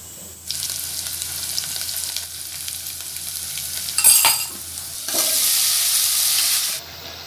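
Ginger and garlic sizzle and crackle in a hot pan, with steady frying noise, a brief burst of stirring midway and a louder surge of sizzling near the end, with no one talking.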